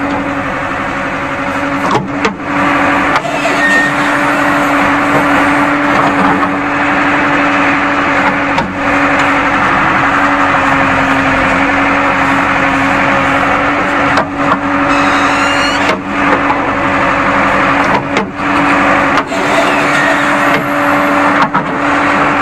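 A JCB 3DX backhoe loader digs a trench for pipeline work. Its diesel engine drones close and loud without pause, and brief dips and hydraulic whines come as the digging arm is worked.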